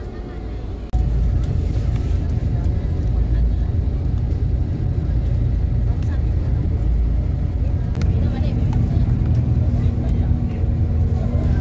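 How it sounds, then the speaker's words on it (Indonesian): A Sinar Jaya long-distance coach pulls away from the Cibitung depot, its engine rumble rising suddenly after a quiet first second and then holding a steady, heavy drone heard from inside the cabin, with people talking under it. "bis kita mulai beranjak meninggalkan Pool Cibitung"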